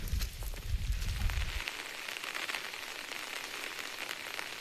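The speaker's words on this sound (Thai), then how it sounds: "ฝนตกเนาะมื้อนี้พี่น้องฝนตกหลายเด้อ" Rain falls in a forest as a steady, close hiss, with a brief low rumble near the start and no talk heard.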